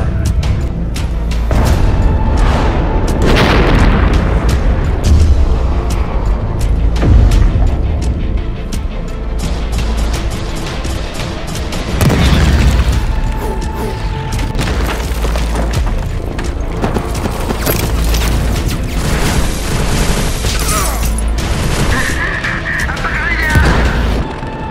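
Cannon fire and heavy explosions from an animated Filipino war short, deep booms repeating at irregular intervals over the whole stretch, loud and close, with a dense layer of battle noise and occasional voices underneath.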